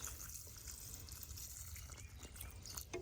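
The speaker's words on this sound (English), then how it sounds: "So I just put it in my watering can, and I'm gonna water this guy in nice and heavy." Water pouring from a watering can onto a tomato plant in a raised garden bed, a soft continuous splashing trickle heard close and fairly quiet, with no talking.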